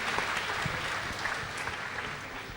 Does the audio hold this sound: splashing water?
no